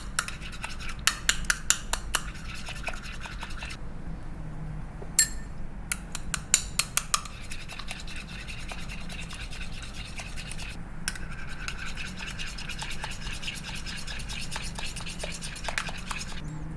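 Wasabi aioli being stirred and mixed in a bowl, giving a steady soft rubbing and scraping with a few sharper clicks early on and more clicks near the middle, close-up with no talking.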